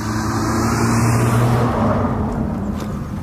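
An outdoor car passes close by, a loud broad engine and tyre roar that holds steady, then slowly fades as the vehicle moves away, with no voice heard.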